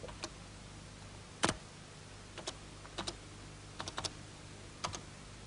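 Scattered keystrokes on a computer keyboard, a handful of separate taps with pauses between them, close and fairly quiet over a low steady hum.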